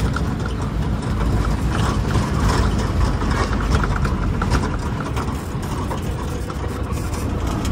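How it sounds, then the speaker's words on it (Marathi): An auto rickshaw rides along a road under construction between Sangameshwar railway station and the bus depot, its engine rumbling continuously with rough, rattling road noise. "आता आपण रिक्षा पकडली."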